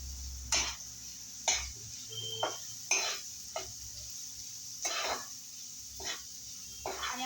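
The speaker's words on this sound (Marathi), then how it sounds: "चांगला हलवून घेऊया." A spoon stirs a bhaji mixture of onion in a pan, producing a string of soft, separate scraping clinks about once a second, faint and fairly close, with no talking.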